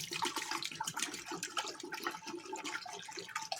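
A half gallon of 5% white vinegar pours into a pot for chow chow, a steady close glugging splash with uneven surges that continues throughout.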